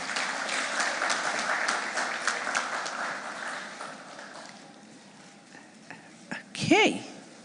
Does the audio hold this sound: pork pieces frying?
no